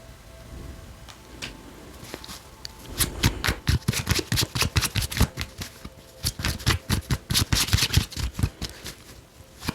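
A tarot deck being handled as cards are pulled and shuffled, rapid papery riffling and snapping in quick bursts, close and fairly loud, with quieter handling before and between the flurries.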